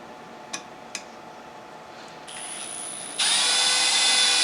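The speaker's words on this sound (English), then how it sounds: "get your 11/64 drill bit in your drill or drill press" A power drill with an 11/64 bit starts into a center-punched hole in metal: two light clicks, then the motor whines up slowly and steps into a louder, steady high-pitched drilling whir.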